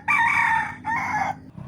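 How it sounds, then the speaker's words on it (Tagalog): Rooster crowing twice in quick succession, a loud close cock-a-doodle-doo with a brief pause between calls, ending with a faint low cluck. "Buutan kaayo iyahang mga manok kay pug imong patingugon mo tingog dayon."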